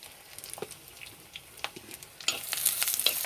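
Chopped onion sizzling and frying in a pan for a home curry, a steady crackle with occasional stirring scrapes, growing louder and busier toward the end.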